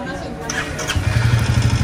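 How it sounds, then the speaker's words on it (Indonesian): An older car's starter cranks briefly before the engine catches and settles into a loud, close, rumbling idle, with people talking over it. "Coba starter kayak apa suaranya? Lihat starter dulu dong suaranya tuh."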